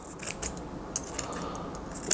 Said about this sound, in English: let's just cut this away. Use my sharper scissors.